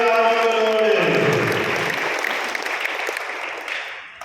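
A church congregation at a Eucharistic adoration service claps together, a dense wash of applause swelling early and gradually tapering off, following a priest's sung or spoken line.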